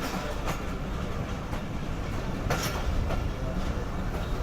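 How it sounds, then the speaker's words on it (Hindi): The Karakoram Express crosses from a branch line onto the main line near Ludhiana junction, its steady rolling roar punctuated by a few evenly spaced clacks as the wheels pass over rail joints. "तो ये फाइनली ट्रेन हमारी चढ़ चुकी है मेन लाइन पर।"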